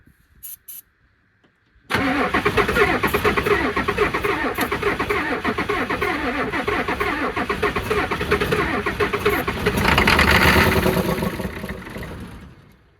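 A Ford F-350 diesel truck that sat for 19 years rumbles into a steady running clatter after a brief cranking start, loud and close, swelling briefly near the end as the engine is revved.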